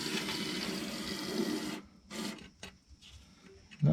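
Fluid Film rust protection sprayed into a Mitsubishi Delica body cavity through a wand: a close, steady hissing spray lasts under two seconds, followed by short bursts and faint handling noises.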